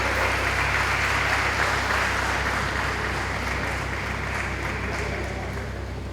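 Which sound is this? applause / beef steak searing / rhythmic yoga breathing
applause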